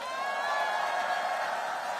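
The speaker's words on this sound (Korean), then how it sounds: "우리 위대한 우리의 이웃들을 위해서 큰 박수 한번 보내주세요" A rally crowd in Paju, Gyeonggi, claps and cheers in a steady dense wash of noise that holds evenly from start to finish, with no clear speech above it.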